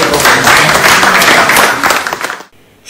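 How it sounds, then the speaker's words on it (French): An audience, mostly African, applauds at an IFC Brazzaville event with loud, dense clapping that holds steady, then cuts off abruptly near the end. "Si l'assistance majoritairement constituée d'Africains a applaudi"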